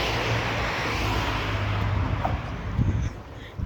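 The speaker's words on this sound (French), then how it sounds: "on n'entend pas beaucoup avec les voitures" Steady road traffic beside a bus stop, cars rumbling past close by with a continuous low engine drone and a few louder swells near the end, no voices.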